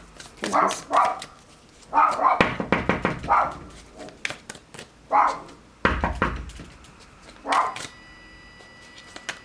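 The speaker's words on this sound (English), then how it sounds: "Sorry, my dog's going crazy." A dog barks in loud, close bursts indoors, several rapid barks in clusters separated by short pauses, with a thump or two among them.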